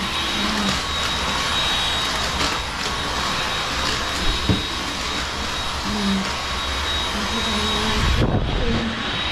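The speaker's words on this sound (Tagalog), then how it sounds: "Gusto ko itong vacuum na to" A vacuum cleaner runs continuously at close range with a loud, steady whine and roar, brief bumps and shifts in pitch as it moves, cutting off abruptly near the end.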